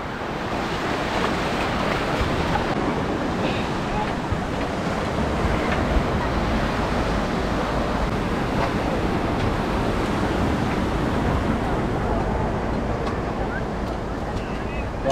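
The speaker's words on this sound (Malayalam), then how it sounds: "നമ്മളിപ്പോൾ ഈ ഒരു ബോട്ടിലാണ് പാരാസൈലിങ്ങിന് പോകുന്നത്" Open boat out on the sea off Malpe Beach, Udupi, heading for parasailing: constant rush of waves, engine and wind buffeting the microphone, loud and close throughout.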